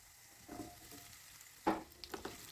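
Capsicum frying with spices in a pan over a high flame: a quiet, steady sizzle broken by one louder clatter of stirring and a few brief scrapes near the end.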